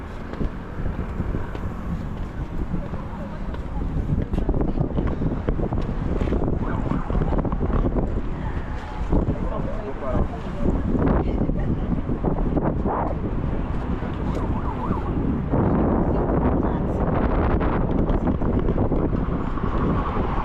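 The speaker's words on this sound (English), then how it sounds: "It's a little bit windy, so I hope you can still hear me." Strong wind at a high viewpoint over Santiago de Chile buffets the microphone continuously, a loud rumbling roar with gusty surges throughout.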